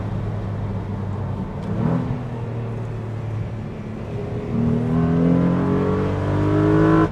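Renault Clio V6 engine revving hard through the gears, a loud close-up drone from inside the car that rises in pitch, drops at a gear change, then climbs again.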